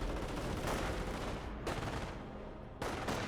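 Gunfire in the Company of Heroes real-time strategy game, several loud sharp shots with a sniper rifle crack among them, spaced across a few seconds over a continuous battle rumble.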